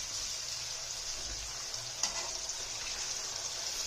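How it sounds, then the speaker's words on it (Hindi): Chicken pieces sizzle in hot oil for a Peshawari charsi chicken karahi, a steady bright hiss with a brief spattering pop partway through. "अब इसके अंदर हम डाल देंगे तकरीबन 3 पाव चिकन"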